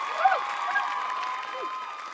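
Applause from a small group fills the stretch, steady and fairly close, with a voice sliding up and down over it like someone exclaiming or imitating a cheer.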